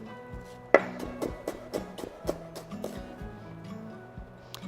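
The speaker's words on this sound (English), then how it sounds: "So I'm just gonna slice some shallot very thinly." A knife slicing a shallot very thinly on a cutting board, producing a steady run of crisp, close chopping taps at an even rhythm with one sharper knock near the start.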